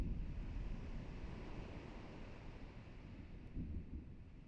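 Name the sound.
storm with thunder, wind and waves in Kingdom Hearts video game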